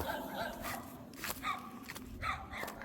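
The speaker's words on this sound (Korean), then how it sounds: "강아지들이 뭐가 저렇게 불만인지 상당한 경계를 하고 있습니다" Dogs on guard at a rural country house give a few sharp barks at a moderate distance, scattered over a faint outdoor background.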